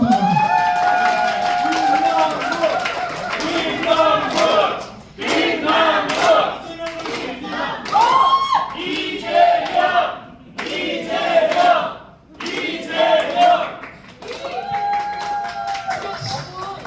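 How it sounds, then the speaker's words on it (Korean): An audience at a Korean political group's New Year gathering applauds former lawmaker Kim Nam-guk, with bursts of clapping and cheering from a crowded room mixed with loud shouts and voices, coming in waves with brief lulls. "우리 30만 원어치 김남국 의원께 박수 한번 다시 한번"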